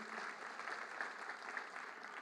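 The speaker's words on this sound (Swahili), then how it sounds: "Tumpigie makofi" Crowd applause at a Jamhuri Day celebration presided over by President Ruto, a steady wash of many hands clapping that holds evenly through the whole stretch with no voices on top.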